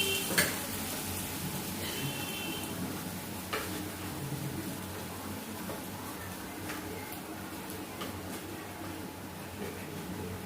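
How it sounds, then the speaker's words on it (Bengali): Spring onion pakoras fry in hot oil in a village kitchen, a moderate, steady sizzle broken by occasional clinks and taps from the utensils. "এইভাবে সব কটা আস্তে আস্তে এইভাবে ভেজে নেবো।"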